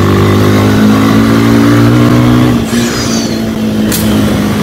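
A customized turbocharged Kansas car's engine drones loud and near, then eases off after a few seconds. The steady roar gives way to rougher crackling, consistent with backfire pops, and a sharp burst comes near the end.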